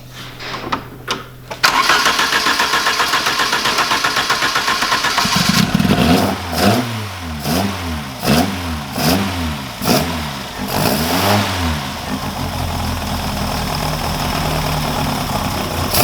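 A Mk1 Ford Fiesta engine fitted with a Weber carburettor cranks and fires, then blips through several rhythmic revs before settling into a loud, close, steady idle.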